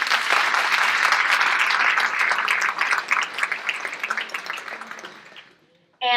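An audience at a junior Italian honor society induction ceremony claps in a full round of applause that stays strong, then thins out and fades to near silence, with a voice starting right at the end.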